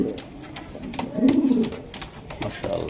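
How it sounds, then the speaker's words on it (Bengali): A male racer pigeon cooing close by, soft throaty coos rising and falling over a few seconds, with faint background voices. "এটা নর ভাই। এটা নর কবুতর।"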